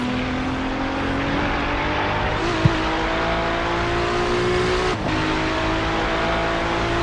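Race car engines at Daytona in the iRacing sim, including prototype GTP and LMP2 cars, drone steadily at high pitch throughout, with a brief click and a short dip near the end.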